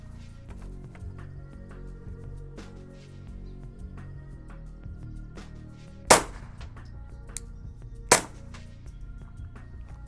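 Two sharp gunshots from a Glock 44 firing Aguila Super Extra 40 grain supersonic rounds crack about two seconds apart over quiet outdoor background with faint clicks.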